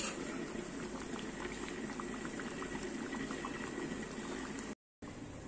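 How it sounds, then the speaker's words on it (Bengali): Chicken handi in a traditional clay pot keeps boiling after coming off the heat, a steady close bubbling and popping that runs continuously with a brief cut near the end. "দেখতে পাচ্ছ ওভেন থেকে নামিয়ে দিয়েছি, কিন্তু এখনো ফুটছে"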